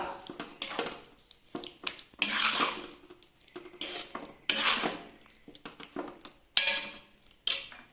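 A spoon mixes lemon pickle with asafoetida powder in a bowl, making intermittent clinks and scrapes against the dish in uneven bursts, close and fairly quiet.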